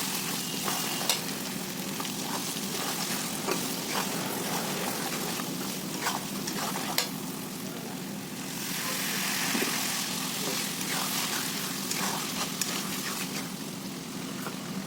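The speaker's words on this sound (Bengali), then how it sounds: "এবার মশলা দিয়ে আমরা ভালোভাবে কষিয়ে নেব।" Ground turmeric, chilli, cumin, coriander and salt are fried in a pan for a chicken and potato curry: a steady, dense sizzle with scattered scraping stirs, fairly close, with a brief swell of hissing midway.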